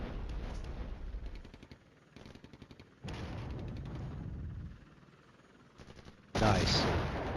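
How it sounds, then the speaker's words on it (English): Mortar fire in the wargame Flashpoint Campaigns Red Storm, the Witch's Cauldron scenario: bursts of rapid crackling impacts in several clusters, ending with a louder, sharper blast, with no talk over it. "And the mortars fall."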